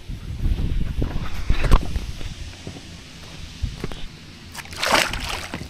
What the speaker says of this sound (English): I'm gonna release this mug back into the water.